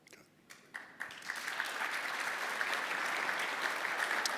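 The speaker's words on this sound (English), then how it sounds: "another round of applause for our panelists" Audience applause at a business CEO summit panel on the future of work, building from a few scattered claps into a fuller, steady round of clapping that is fairly soft and distant.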